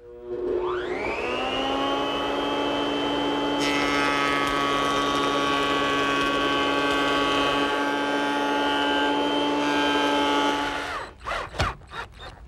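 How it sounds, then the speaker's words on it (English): A small jointer planes the sawn edge of a board. The motor whines up to speed and holds a steady, loud drone for about ten seconds, then winds down with a few short knocks. "I'm going to make a pass through my small joiner."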